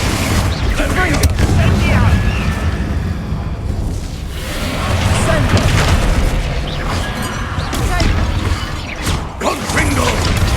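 Dense, continuous combat in Hogwarts Legacy fills the air as Confringo fire-blast spells explode repeatedly among mechanical clanks and booms, while voices shout spell names throughout.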